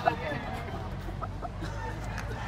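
Stag chickens, Melsim birds for sale, give soft scattered clucks at moderate distance beneath a steady background murmur, with a brief louder note at the start.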